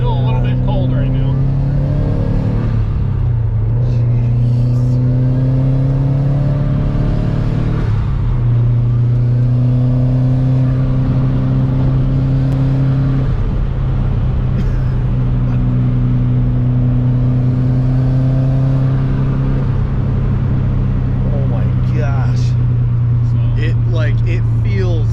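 Subaru Impreza GC8 with a swapped-in STI engine pulls away on a first drive, its engine drone rising and dropping in pitch through several gear changes under steady in-car rumble, with occasional voices talking over it.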